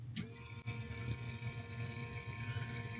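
A small pump running on two D-cell batteries transfers fuel out of a mini excavator's tank, giving a steady liquid hum and gurgle with a brief knock near the start.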